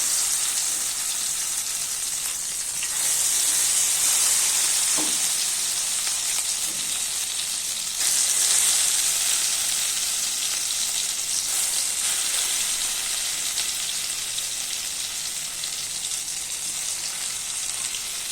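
Pieces dropped one by one into hot oil sizzle in a steady, bright, close hiss, with occasional swells and faint clinks, running on with no talk.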